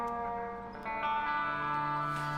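Bastion/Transistor video game music drenched in heavy reverb, sustained resonant chords swelling and washing over each other with long echoing tails, played alone without voices.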